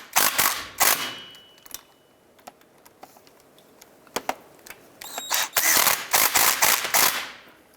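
Hand ratchet tightening front drive shaft flange bolts on a 2002-2007 Jeep Liberty during a forward CV joint job, heard as close bursts of rapid clicking separated by short pauses and small metallic taps, with no talking.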